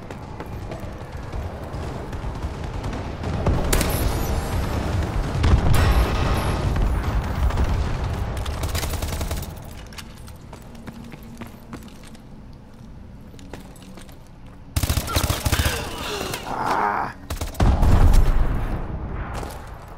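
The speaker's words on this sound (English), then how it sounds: "Friendly bombing run incoming." A bombing run in the video game Call of Duty: Advanced Warfare sets off a heavy barrage of loud, rumbling explosions, with dense bursts fading, then returning in sharp, powerful blasts.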